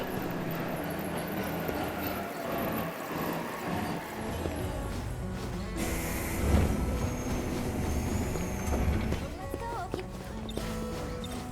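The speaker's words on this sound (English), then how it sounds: "Okay, let's get on the train. Train's here at least." A train arrives at a station in 13 Sentinels: Aegis Rim, a continuous rumbling of rolling rail cars with metallic squeals and clanks, moderately loud with faint background chatter.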